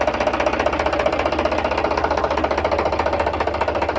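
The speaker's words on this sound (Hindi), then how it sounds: "देख सकते हैं पूरी तरह से ट्रैक्टर ड्राइव भी हो रहा है" An Indo Farm 3035 DI diesel tractor engine runs steadily while driving after a single clutch replacement, with a rapid, chugging pulse and a low rumble, close and constant throughout, with no talking.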